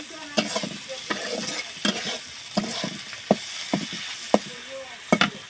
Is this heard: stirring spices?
yes